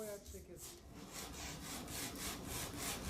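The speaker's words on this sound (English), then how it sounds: "you can place the sandpaper down and rub the wood against it like this" A piece of wood is rubbed back and forth across sandpaper laid flat on a surface during the making of a circular wooden xylophone, producing quiet, rhythmic rasping strokes, with about seven or eight close scrapes.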